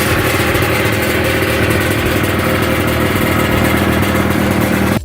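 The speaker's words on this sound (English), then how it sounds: "Its standout feature was a 500cc V-twin, two-stroke engine." A 500cc V-twin two-stroke engine on a 1997 Bimota Vdue motorcycle with direct fuel injection runs steadily and loudly up close, a dense buzzing drone with no speech.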